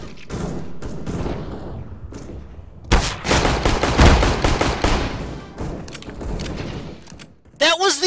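Automatic rifle spray in a CS:GO match: rapid, loud bursts of gunfire in quick, rattling sequences with sharp impacts and mechanical clatter, broken by short pauses, with a voice heard briefly near the end.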